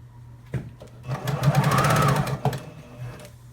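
A sewing machine top stitching a fabric water bottle cover runs in one steady burst of about a second and a half, close and fairly loud, with short handling clicks of the fabric before and after.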